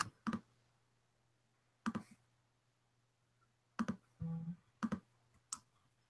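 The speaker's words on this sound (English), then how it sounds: "Who's clicking?" Sparse sharp clicks, likely from a computer mouse or keyboard, come in isolated pairs several seconds apart over a faint steady hum, close and quiet.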